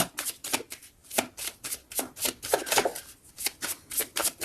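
Tarot cards are shuffled close up in a quick, even run of crisp riffling flicks and slaps, each short burst following the last with no talk.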